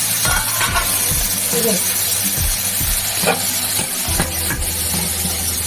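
Chopped vegetables (eggplant, pointed gourd, potato, tomato, onion, green chilli) sizzling and being stirred in hot oil for a fish curry, a loud steady fry with scraping stirs throughout.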